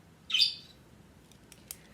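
A single sharp bird squawk rings out near the start, followed by faint, brief chirps against a quiet indoor background.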